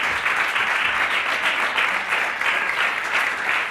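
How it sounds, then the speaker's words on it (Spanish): Church congregation applauding during a sermon, a loud, dense, continuous burst of clapping heard on its own without speech. "denle un aplauso al Señor"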